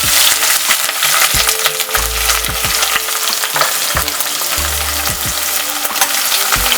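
Split green chilies and capsicum fry loudly in hot oil for a keto vegetable upma, with a steady, dense sizzle broken by sharp spatters and the scrape of stirring, and no voices.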